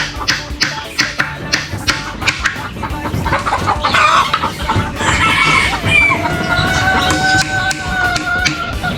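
Hens cluck busily in a chicken coop, with a rooster crowing and sharp tapping close by, all loud and continuous with little talk.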